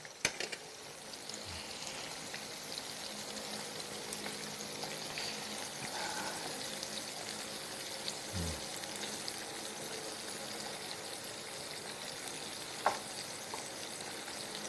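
Food frying in oil in a pan while turning golden brown, a steady soft sizzle and crackle running throughout at moderate distance, with a couple of faint clinks and no talking.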